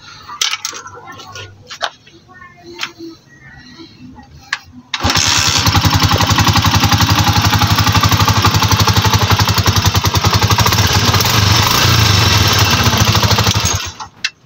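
A second-hand Honda TMX125 Alpha motorcycle kicks into life after some clicks and fiddling, then idles loud and close with a steady, fast single-cylinder putter that holds for about nine seconds before cutting off.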